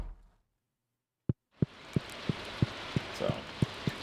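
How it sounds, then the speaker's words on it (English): Rain falls steadily with soft hiss and regular dripping taps, starting after a brief quiet gap. "Hey, I can hear the rain again."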